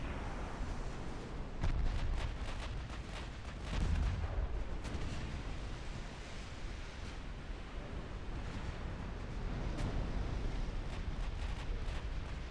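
Torpedo hits land on French cruisers in a UAD naval battle, with dull booms and crackling bursts scattered over a dense roar of gunfire and sea noise, steady and loud for about twelve seconds.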